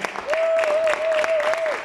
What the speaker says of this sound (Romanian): Haideți să primim cu foarte multe aplauze